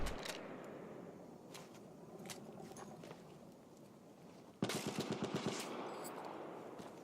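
Bursts of automatic gunfire in a competitive console shooter match, a steady crackle of distant shots that turns into a loud, rapid close-range volley partway through, with no talk.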